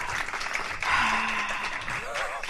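An audience claps for a singer in a radio studio session, a continuous even wash of hands at moderate volume, with a brief cheer or whistle near the middle and a hint of voice toward the end.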